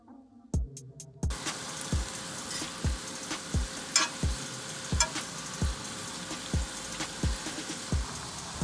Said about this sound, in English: cook both the onions and garlic until they're soft